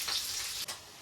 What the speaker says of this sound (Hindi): ये फ्राई कर रहे हैं।